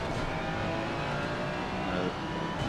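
A Ferrari race car in a racing video game gives a continuous, close engine drone while revving hard, with a steady roar and no clear gaps.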